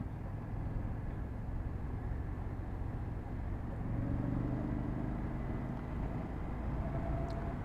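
A 2025 Indian Sport Scout motorcycle cruises in third gear along quiet back roads, its engine a soft, steady low rumble beneath constant wind and road noise with no distinct revving.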